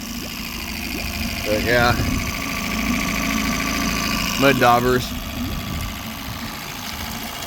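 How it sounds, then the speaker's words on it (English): A 2001 Yamaha 8hp outboard motor idling steadily with a low, even mechanical drone, while someone talks over it in two short bursts. "as far as the motor running, it's running damn good now"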